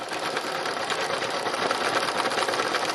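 A sewing machine runs steadily, stitching a flower design onto fabric, with a continuous dense mechanical whir that holds at a constant level close by throughout.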